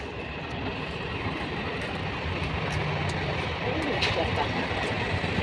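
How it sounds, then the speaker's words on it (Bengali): A train passes in front of a house near a flower garden, a steady loud rumbling roar that runs continuously throughout. "ওই দেখো ট্রেন যাচ্ছে আমাদের বাড়ির সামনে দিয়ে, দেখেছো?"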